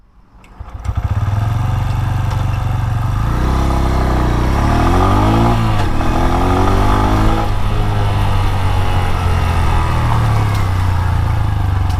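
A Bajaj Pulsar N125 motorcycle engine starts after a brief quiet moment and runs steadily at close range, with idle pitch rising and falling briefly as it's revved, then settling to a continuous loud rumble.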